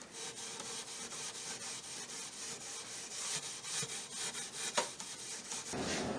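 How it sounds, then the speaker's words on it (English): Steel wool buffing the varnished surface of a wooden medicine cabinet, a continuous close, dry rasping rub in rapid back-and-forth strokes with no voices. "I buff the surface of the cabinet using steel wool"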